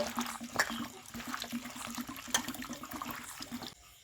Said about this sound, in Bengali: এই আলুগুলো আমি সব ধুয়ে নেব। দুবার তিনবার ধুয়ে নেব।